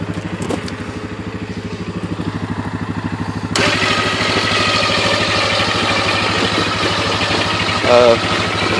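A Viper winch motor drones steadily and close, with a low pulsing hum that jumps louder and rougher partway through as the winch starts to pull.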